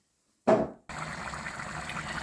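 Rice in water on a stove over high heat for plov, a steady close bubbling and rushing boil that runs continuously after a brief louder splash-like burst.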